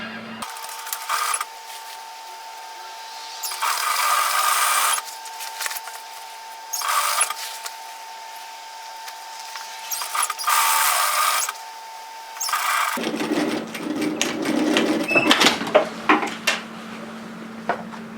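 A domestic sewing machine stitches the armholes of a tailored vest, running in several bursts of a few seconds each with a steady whirring hum and short pauses between.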